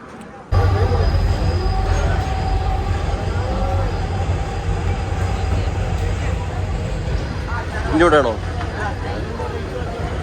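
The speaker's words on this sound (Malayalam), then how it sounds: "കടേൻ്റെ നേരെ മുന്നിൽ കൂടെ ട്രെയിൻ പോണു" A train rumbles past nearby in a steady rolling roar, with a brief wheel squeal near the end and voices faintly underneath.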